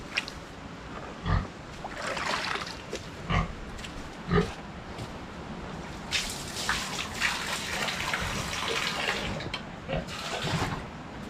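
Water pours and splashes in a steady wash with a few louder gushes, while a pig grunts faintly now and then.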